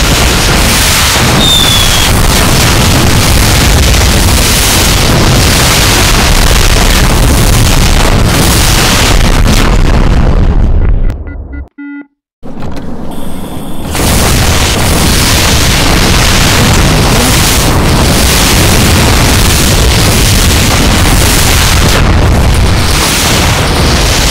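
Airstrike blasts in the tower defense game Defense Zone 2 HD, a dense, loud barrage of booming explosions rolling almost continuously, breaking off into brief silence midway before the heavy rumbling resumes.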